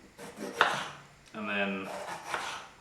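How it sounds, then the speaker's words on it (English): A knife chops capsicum on a cutting board in a few quick scraping cuts while a person speaks briefly between them, close and moderately loud. "So just cut up your capsicum small"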